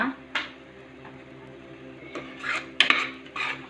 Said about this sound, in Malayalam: എല്ലാം കൂടി നന്നായിട്ടൊന്ന് ഇളക്കും.